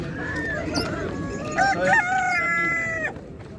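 A rooster crows loudly once amid a busy background of other birds and murmuring at a pigeon market in Tczew, Poland, with a honking call from a duck nearby.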